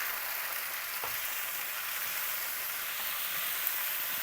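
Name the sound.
sauerkraut with onion and garlic frying in a pan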